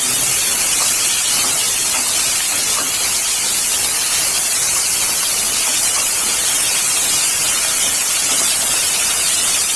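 Fenugreek leaves sizzling in a hot pan as they cook, a steady loud hiss of frying steam that carries on unbroken throughout.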